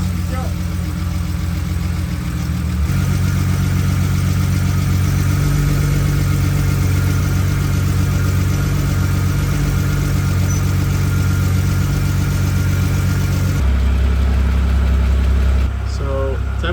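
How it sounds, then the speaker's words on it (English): A BMW E91 wagon's engine starts and settles into a steady idle, a loud, close, continuous low drone with a slight rise in pitch near the end. "we'll let the car idle for a bit more"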